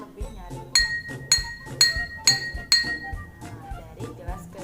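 A drinking glass partly filled with water is struck repeatedly in a science experiment, about eight bright ringing clinks in a steady rhythm, each ping decaying quickly, with a voice speaking underneath.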